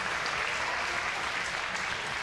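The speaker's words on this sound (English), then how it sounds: "Let's start with a big round of applause for both fighters." Crowd applause at a fight league event, celebrating both fighters after a bout, steady dense clapping filling the whole stretch at a moderate, slightly distant level with no pause.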